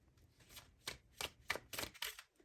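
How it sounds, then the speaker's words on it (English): Tarot cards being shuffled loosely, with a series of soft, papery riffles and slaps coming in quick bursts about every third of a second, close and fairly quiet, with no voices. "multiple cards that fall out is just my sloppy shuffling"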